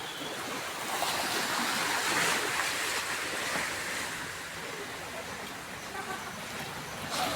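Water rushes continuously with a broad, noisy hiss, like a stream or surf heard close by outdoors on a long drive through Infanta, Quezon, mixed with some wind buffeting.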